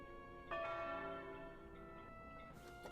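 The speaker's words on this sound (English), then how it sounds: "What about this bell?" A bell in the Wallace and Gromit video game strikes once with a clear metallic clang, then rings on in a long, shimmering decay, joined by a second brighter chime near the end.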